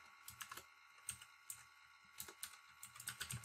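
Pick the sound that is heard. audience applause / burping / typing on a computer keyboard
typing on a computer keyboard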